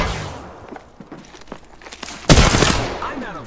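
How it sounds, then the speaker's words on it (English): Gunfire in a video game firefight: scattered sharp cracks early on, then a loud dense burst of shots about two-thirds through that trails off, with a voice briefly audible. "I'm taking fire, friends."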